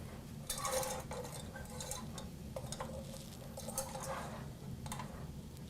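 Pumpkin pie spice stirred into ingredients in a bowl, with a series of sharp utensil clinks and scrapes against the bowl over a low background hum, irregular and close, some taps louder than others.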